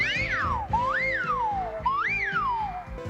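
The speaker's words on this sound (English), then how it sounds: "Since he's a mime, he doesn't speak, but instead communicates through whistles and a synthesized voice." A mime character in the SilverHawks cartoon whistles three sliding, swooping phrases, rising then falling in pitch, over a soft busy background.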